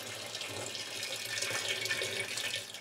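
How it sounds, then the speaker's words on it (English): Hot water running steadily into a vessel holding kilos of sugar for a moonshine brew, a continuous close hiss of flowing water at a constant level with no talk. "Now just dissolving the sugar with hot water."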